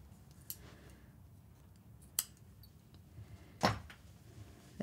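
A single crisp snip of scissors cuts a yarn tail on a knitted tea cosy, standing out sharply in a quiet room among a few fainter clicks and taps.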